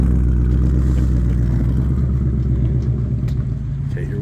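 Ford Mustang Dark Horse V8 fitted with a Corsa H-pipe exhaust rumbles steadily at close range, a deep, loud, continuous burble with slight clatter and no sharp revving.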